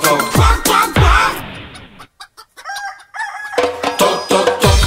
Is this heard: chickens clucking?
yes